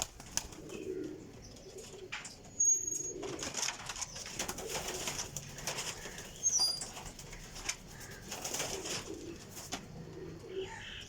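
High flyer pigeons of golden Teddy type coo softly and repeatedly nearby, broken by a few abrupt wing-flap bursts and light scuffling within the flock.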